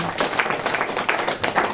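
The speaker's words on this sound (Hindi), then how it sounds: "पहले तो इनके लिए तालियां होनी चाहिए।" Brief burst of audience clapping during a public talk, a cluster of hand claps with uneven rhythm, moderately close and short-lived.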